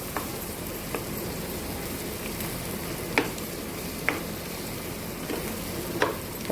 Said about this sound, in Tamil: தேங்காய் போட்டு ஒரு 2 நிமிஷம் வதக்கினா போதும்.